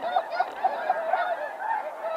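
Snow geese honk repeatedly during a goose hunt, a dense overlapping chorus of calls from a flock at moderate distance with no talking.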